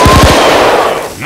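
Rapid burst of video game gunfire, several quick close shots in a row that fade into a noisy background, played during a zombie co-op shooter session.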